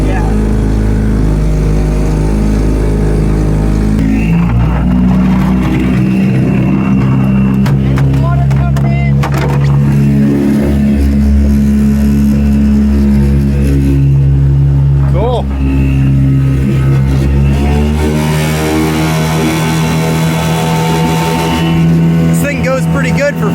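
A 5 horsepower two-stroke outboard motor on a jon boat drones loudly and close, its revs rising and dropping unevenly throughout, while people talk over the engine noise.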